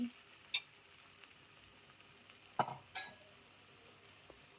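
Frying in a pan while browning, a close, quiet sizzle broken by several sharp spatula scrapes and clinks against the pan.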